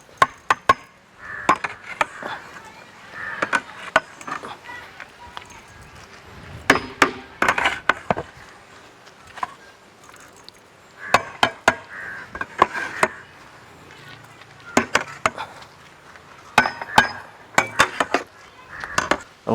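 Cooked rice for an Arabian mutton kuzhi mandhi being tossed and mixed in a large pot, with repeated clattering scrapes and knocks of a serving utensil against metal in uneven bursts, close by.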